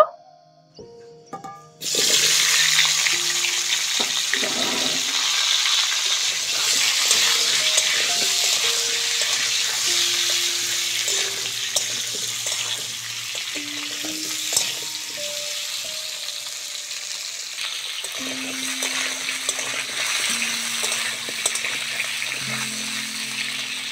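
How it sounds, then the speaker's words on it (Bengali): Potatoes fry in oil left from frying eggplant, a continuous loud close sizzle and crackle that starts abruptly and holds steady, with faint tonal sounds in the background. "ওই তেলের মধ্যে আলুগুলো ভেজে নেব।"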